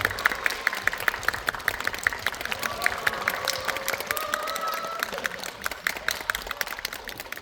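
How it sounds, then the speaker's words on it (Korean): Sustained applause from a large film screening audience, dense steady clapping with a few brief voices rising through it, continuing throughout. "다시 한번 박수 부탁드리겠습니다"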